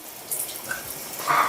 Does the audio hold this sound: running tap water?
yes